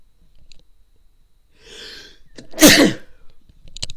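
A single loud, close sneeze follows a soft drawn-in breath, sharp and explosive, then fades into quiet with faint clicks afterward.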